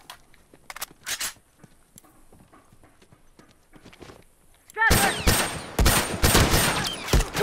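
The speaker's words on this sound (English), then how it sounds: "This man shot me with a shorty and took half my health." Gunfire breaks out in an online match of The Last of Us Remastered, with sparse clicks and movement sounds giving way to a loud, sustained burst of rapid shots, while a player's voice is heard briefly.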